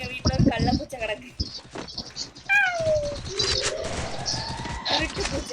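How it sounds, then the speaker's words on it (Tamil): Close indoor meowing from a cat in a house, one clear rising call, then a drawn-out one, over talking voices and household noise. "பூனை கத்திட்டு கிடக்கல."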